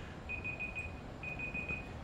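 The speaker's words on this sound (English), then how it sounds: "That was just a beep beep to let us know we're running over time." A studio beep warning that a show is running over time sounds as two short bursts of rapid, steady electronic tones in a row, faint against a quiet background hum, with no voices.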